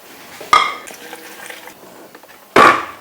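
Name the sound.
sliced vegetables and chilies added to a bowl for kimchi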